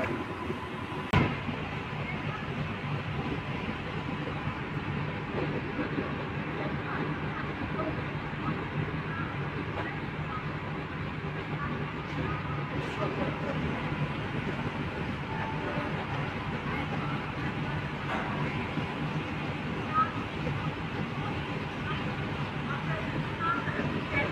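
A new air-conditioned local train pulls out of Chennai Beach station, giving a steady, moderately loud rumble of wheels and motors with occasional sharp clacks, heard from inside the coach amid a faint murmur of passengers.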